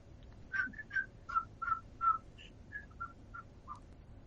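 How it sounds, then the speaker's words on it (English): Someone whistles a short tune of about a dozen clear, separate notes at an even pace, fairly close and alone over a low background hum. "I'll sit here and I'll whistle a tune."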